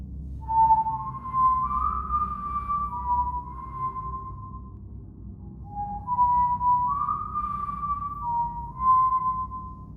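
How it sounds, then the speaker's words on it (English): Two long, wavering whistled phrases drift slowly up and down in pitch, eerie and tuneful, over a low background rumble. "we heard the whistling"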